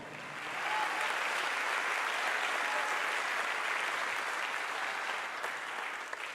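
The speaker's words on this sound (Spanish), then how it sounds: "Le damos un fuerte aplauso al Señor" A church congregation applauds together in a sustained, dense wash of clapping that swells in quickly and holds steady for several seconds, fairly loud and filling the room, with no voices standing out.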